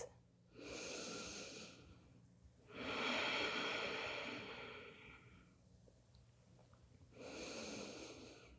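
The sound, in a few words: deep breathing in yoga child's pose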